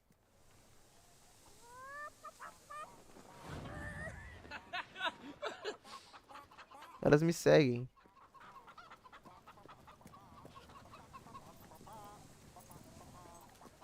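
Chickens clucking and cackling in the Xbox 360 game Fable 3, a series of close, rhythmic clucks and a louder squawking burst midway, with someone speaking briefly over them.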